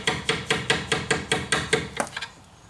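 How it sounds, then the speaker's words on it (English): A hammer taps a bolt on a 1988 Ford Ranger during heater hose work, about ten evenly spaced metallic knocks close by, fading softer and quicker at the end, with no talk. "Just hit it with a hammer a little bit."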